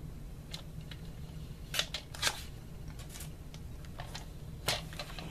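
Craft paper being cut to a 6 1/4 inch height for a 4x6 G45 mini album, giving a few faint crisp snips and slides over steady room hiss, with no voices.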